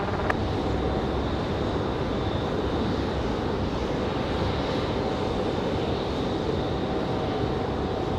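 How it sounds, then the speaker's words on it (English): A Frontier airliner takes off at Raleigh-Durham International Airport, its jet engines producing a loud, sustained broadband roar that holds steady throughout with no speech over it. "Frontier gonna get off the ground early."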